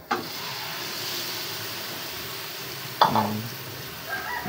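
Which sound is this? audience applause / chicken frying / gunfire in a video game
chicken frying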